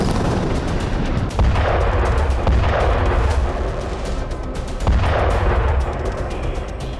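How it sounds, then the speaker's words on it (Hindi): Israeli strikes on Gaza bring heavy artillery and gunfire, a continuous loud roar punctuated by several deep booms spaced a second or two apart, with no voices. "दस अक्टूबर को इजराइल ने गाजा पर ताबड़तोड़ हमले किए और कई इमारतों को जमींदोज कर दिया।"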